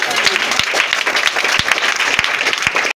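A church congregation claps steadily and fairly loudly, dense overlapping hand claps with a few sharper low thumps standing out, sustained for about three seconds before stopping abruptly.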